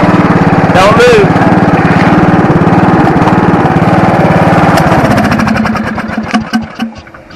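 A cheap secondhand lawn mower engine runs steadily up close with a rough, throbbing drone, then sputters and winds down into uneven pops near the end, with voices underneath.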